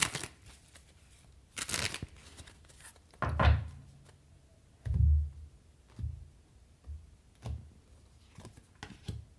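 Tarot cards being shuffled and handled in a few soft riffling bursts and low thumps, with quiet pauses between them and no talking.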